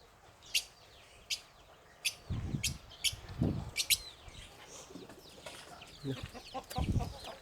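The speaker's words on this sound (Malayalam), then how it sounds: "ഒക്കെ പ്യൂർ നാടൻ കോഴിക്കുട്ടികളാണ് ഇതെല്ലാം" Country chickens cluck and native chicks peep close by in short, repeated calls, with occasional low rustling bursts between them.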